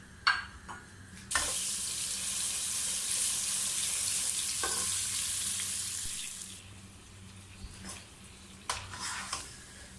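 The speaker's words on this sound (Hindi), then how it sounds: "चिकन मैंने इसमें शामिल कर दिया और इसे अच्छे तरीके से मैं फ्राई कर लूँगी" Chicken pieces frying in a pan with curry leaves, cumin and red chili, a steady loud sizzle with a few clinks and stirring knocks, close and alone.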